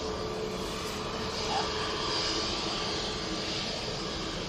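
A Corendon airliner on final approach into Manchester, its engines a steady, broad roar held at an even loudness throughout, moderately distant, with no voices.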